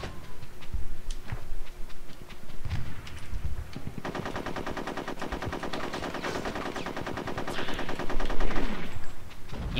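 Rapid gunfire from the video game Conker's Bad Fur Day in multiplayer mode: scattered shots early, then a sustained, dense automatic burst from about four seconds onward, loud and continuous with no talk.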